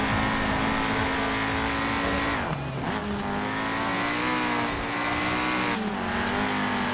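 A 1991 Peugeot 205 Rallye races in Forza Horizon 4, its engine droning loud and steady with a quick dip and recovery of revs as the throttle is eased and reapplied, tires faintly squealing.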